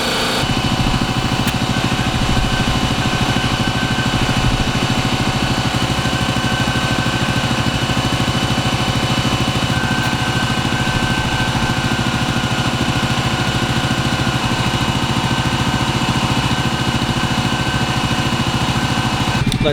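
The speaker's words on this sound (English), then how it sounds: "We got the air compressor running." An air compressor runs continuously beside a four-wheeler being prepared, a loud, steady droning motor with a constant buzzing hum and no breaks throughout.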